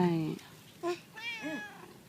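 A house cat meows up close, three or four short rising and falling calls in quick succession, loud and clear in a quiet room.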